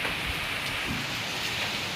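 Heavy monsoon rain pours down steadily in Karnataka, a dense, even hiss close by with no break across the moment.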